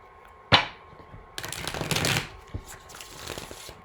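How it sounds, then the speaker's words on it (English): Tarot cards being shuffled, a sharp riffle snap followed by a longer run of rapid papery flutters and a few softer card taps, close and clear with no talking. "One more shuffle, and the cards will be ready."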